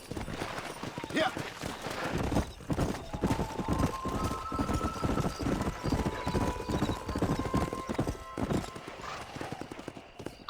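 Galloping horse hooves from Red Dead Redemption thud in a fast steady rhythm, close and loud, with a whinny and people talking over the hoofbeats.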